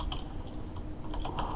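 Fast typing on a computer keyboard during a coding session, close and steady, with rapid light key clicks in a continuous irregular patter over low background hum.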